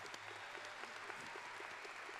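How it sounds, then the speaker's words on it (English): Faint, distant audience applause at a UTRGV university commencement, a soft steady patter of clapping for a retiring staff member, heard from afar at low level. "We owe her a big round of applause for all of that."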